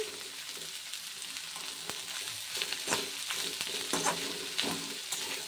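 Vegetables fry with tomato ketchup for a Mumbai-style sandwich filling, with a continuous sizzle and repeated scraping stirs of a spoon in the pan, no voices.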